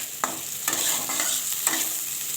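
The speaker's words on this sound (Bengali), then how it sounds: "এখন দেখুন এটাকে ভালোভাবে নেড়ে চেড়ে নেব" Masoor lentil dal with jute leaves being stirred in a hot pan, a continuous sizzle broken by a few distinct scraping strokes over a couple of seconds.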